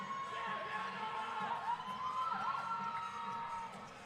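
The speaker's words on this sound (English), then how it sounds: "Crowd's starting to feel it too." Crowd at a women's college basketball game cheering and shouting, with whoops and high voices rising over a steady din of noise in a gym.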